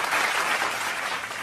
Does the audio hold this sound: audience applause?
yes